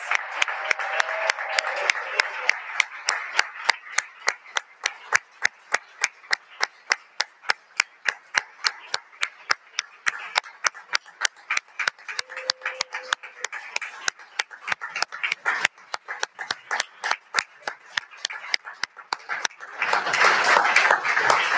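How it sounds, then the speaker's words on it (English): A crowd gives sustained, dense applause for newly naturalized American citizens at a ceremony hosted by Vice President Pence, a steady roll of many hands clapping that swells louder near the end. "Please, let's have a round of applause for America's newest citizens"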